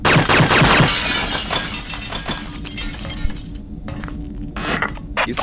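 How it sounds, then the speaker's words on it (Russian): Glass shatters under gunfire in the PS2 video game Red Faction: a loud burst of breaking panes with shards clinking and scattering, then tinkling debris fading in short bursts. "Выстрели в стекло, чтобы разбить его."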